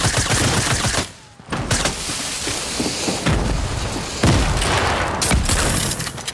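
Dense rapid gunfire in a Fortnite match, loud bursts and fusillades filling the whole stretch with a brief lull early on, close and continuous without talk.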